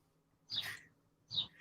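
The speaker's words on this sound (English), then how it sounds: "the birds are actually so loud" Birds singing outside a closed window, heard as two short, faint chirping calls spaced about a second apart, slightly distant and muffled, with no talking.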